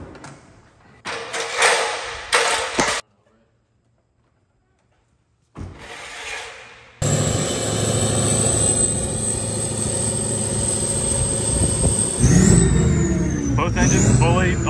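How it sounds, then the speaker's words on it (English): Two engines of a homemade monster truck start up and settle into a loud, steady running roar, with a high whine above; before that come short bursts of revving and a brief silent gap, then continuous engine noise to the end. "Both engines fully operational now."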